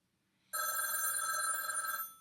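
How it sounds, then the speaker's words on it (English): A loud telephone bell ringtone starts abruptly and rings continuously for about a second and a half, close and clear, on a farm with no talk over it. "That's what my phone sounds like."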